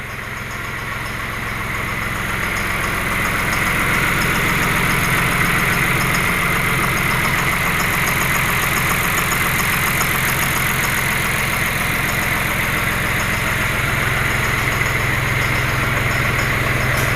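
A 2022 John Deere 5075E tractor idles up close with a steady, even diesel rumble and a faint rhythmic knock, unchanging and alone throughout.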